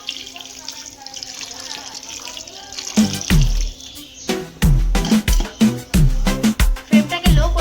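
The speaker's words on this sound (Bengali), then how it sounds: "এবারে দিয়ে দিচ্ছি জল" Water is poured into a cooking pot, starting after a quieter opening and then coming as loud, splashy gushes in several close bursts.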